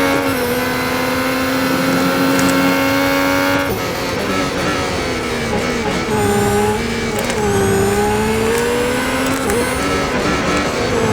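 A car lapping Yas Marina circuit, its engine droning loud and steady on the straight, the pitch climbing with the revs, then shifting and rising again.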